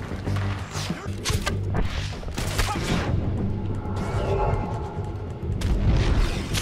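Explosion from an explosive arrow in the Red Dead Redemption 2 video game, heavy booming blasts with crashing and thudding impacts over a loud, busy rumble of game noise.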